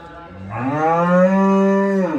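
A cow on a dairy cattle farm lets out a single long, loud moo close by, rising and holding steady for about two seconds before trailing off.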